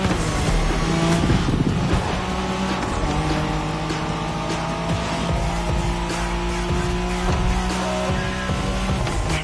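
Nissan Skyline race car in The Crew, a continuous engine roar with shifting revs and tire noise, loud and close throughout the clip.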